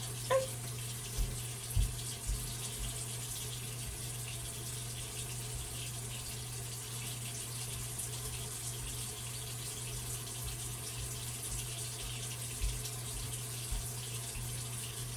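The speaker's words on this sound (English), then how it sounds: "I just left the water running by accident" Water runs from a tap in a steady, even hiss with a constant low hum underneath, broken by a few faint clunks, continuous and fairly quiet throughout with no speech.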